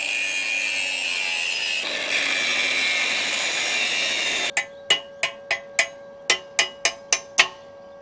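A power tool grinds steadily as it cuts a slot for a bolt, its pitch shifting partway, then stops and gives way to a run of about ten sharp metallic taps in a quick, slightly uneven rhythm.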